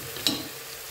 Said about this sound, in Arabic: توا بعد ما تقلى الدجاج شوية باش نحط التازية تتقلى زادا معاه شوية